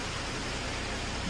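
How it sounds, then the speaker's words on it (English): Small roadside waterfall on Bull Road in York County, Pennsylvania, a steady broadband rush of falling water, loud and continuous with no break. "here's that little waterfall I was talking about"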